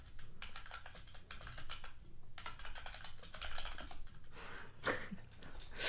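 Rapid clattering keystrokes on a computer keyboard, close and busy in uneven bursts with short gaps, while someone enters text into a running program.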